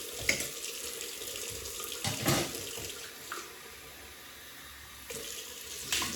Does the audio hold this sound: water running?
yes